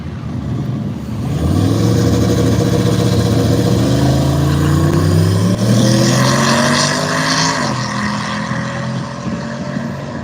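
A Chevrolet S10 and a Camaro drag racing side by side down the strip, engines roaring loudly as they launch and climb through rising gears, then fading as the cars pull away.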